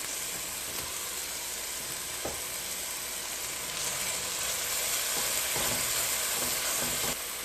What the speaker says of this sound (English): we're going to add in our paste and stir that in